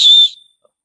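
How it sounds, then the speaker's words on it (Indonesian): Emergency whistle built into the chest strap of an Eiger Ecosavior 45L backpack, blown once in a single short, loud, piercing blast that cuts off abruptly. "di bagian sebelah sini ada strap ya, dengan peluit darurat."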